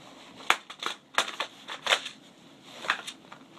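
An airsoft gun magazine being handled and inserted: a run of sharp plastic clicks and scrapes, several distinct close knocks with rustling between them, no talking.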